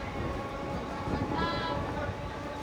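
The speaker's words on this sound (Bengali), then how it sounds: "নৈহাটি লোকাল ঢুকলো সোদপুর স্টেশনে 1 নম্বর প্ল্যাটফর্মে।" A Naihati local train pulling into platform 1 at Sodepur station, its low rumble and rolling wheel noise close by with a faint high squeal, under a murmur of voices.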